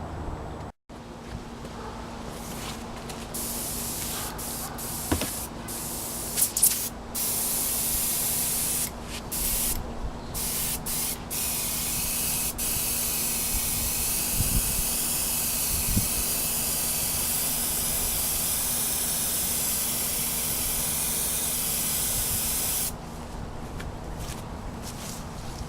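An airbrush sprays red paint onto a Bimota motorcycle fairing during restoration, a steady close hiss that runs almost continuously with a few brief stops near the start and end.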